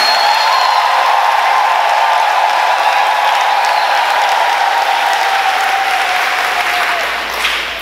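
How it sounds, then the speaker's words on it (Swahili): A congregation closing a Catholic Mass and Word of God seminar claps in sustained, loud, evenly dense applause that holds throughout and fades slightly right at the end. "Tujipongeze kwa makofi ya kutosha"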